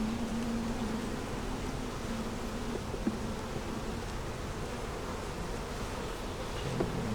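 Honeybees swarm and buzz around an open double-deep eight-frame hive during an inspection, a dense, steady hum filling the whole stretch with a faint tonal drone near and all around.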